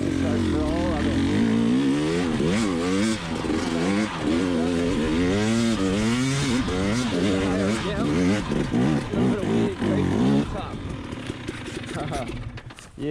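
A 2020 KTM 300xc TPI two-stroke enduro bike with a Pro Circuit spark arrester muffler revs hard up a hill, the engine pitch rising and falling through repeated throttle bursts, loud and close, then fading near the end.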